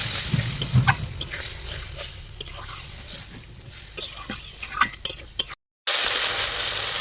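Spices and chopped tomato being sautéed in a pan for a jackfruit curry, a soft sizzle under repeated scraping and clinking of a spatula against the pan, brief pause of silence near the end, no talking.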